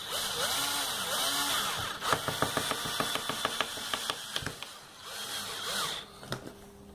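Cordless power screwdriver driving the final screw into a household refrigerator door gasket, a burst of rapid ratcheting clicks up close over a steady whirring background, with no talk.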